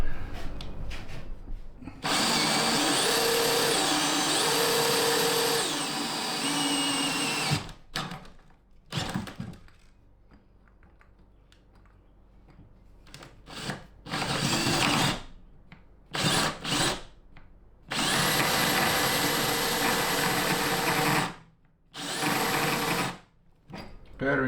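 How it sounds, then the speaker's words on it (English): A cordless drill fitted with a pilot bit bores through corrugated aluminum in a box truck camper, whining loudly in several long bursts separated by pauses, with quieter handling noises between runs. "I broke 3 pilot drill bits trying to get through there."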